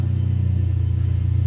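A BMW 320i petrol engine with the muffler removed holds a loud, close, deep rumble with a fast, even throb, as if idling or held at steady revs.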